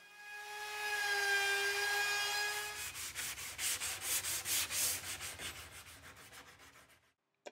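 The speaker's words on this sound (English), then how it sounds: "I cleaned up the edges with a belt sander" Belt sander working the edges of a wooden centerboard for a small sailboat build: a steady rising whine for a few seconds, then a rhythmic pulsing rasp as the sander is pushed back and forth, close and loud, then stopping.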